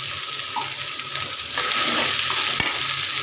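Ghee sizzles in a pan as dal cooks, a steady hiss running throughout and growing a little louder partway, with a brief clink near the end.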